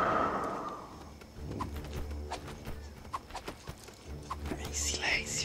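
Horse hooves clip-clopping in the Lego Lord of the Rings video game, a short run of soft, uneven hoof knocks over low game ambience, with a voice murmuring faintly.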